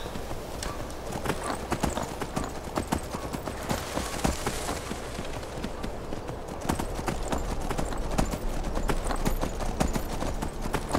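Rapid clip-clop of a horse galloping in Skyrim, continuous rhythmic hoofbeats close and steady for the whole stretch, with brief game sounds over them.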